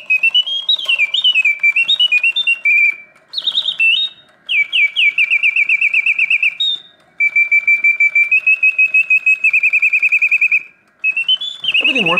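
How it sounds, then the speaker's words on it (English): A vintage Reuge double singing bird cage automaton trills and warbles in sustained, oscillating whistled phrases with brief pauses, loud and close, ending with a short descending sweep. "hitting all of the proper oscillating notes, yet the mechanism runs smoothly and quietly"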